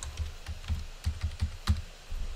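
Quick, irregular keystrokes tapped on a computer keyboard, close and fairly soft, with a few sharper key hits standing out and no voices.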